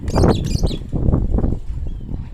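Pigeons flutter close by, with short bursts of wing flapping and soft calls over about two seconds, loud at first and easing off.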